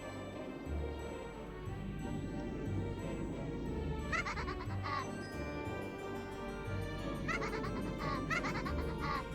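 Goat bleats from a visual novel play as a sound effect, several wavering cries in short bursts over a constant, dense background of music.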